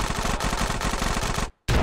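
Shotgun fire in GTA San Andreas, a loud close rapid pounding of repeated blasts that stops dead for a moment, then one more hit lands.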